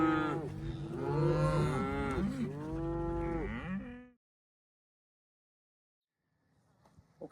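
Cattle moo loudly nearby on a Colorado ranch, several long overlapping bellows for about four seconds, followed by quiet with faint rustling at the end.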